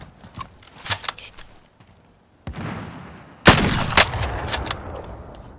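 Sniper rifle fire in Call of Duty Warzone, with a few sharp shots and a sudden loud blast partway through, each followed by a ringing decay over a background of game noise.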